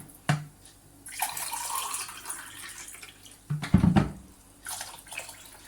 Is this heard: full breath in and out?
no